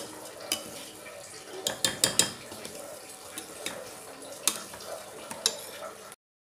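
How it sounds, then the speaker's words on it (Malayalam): Prawn biryani ingredients fry in ghee in a pan, a steady sizzle with repeated scrapes and clatters from stirring, close and fairly soft. "നന്നായി ഫ്രൈ ചെയ്തെടുക്കുക. നെയ്യ് വെച്ചതുകൊണ്ട് നന്നായിട്ടൊന്നും കൂടി ഫ്രൈ ആവും."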